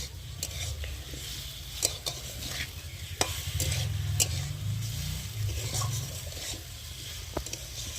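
A spatula stirs fried cauliflower being cooked down with potato in a pan of oil. Steady scraping strokes run under a constant close sizzle, with a few sharper clinks along the way.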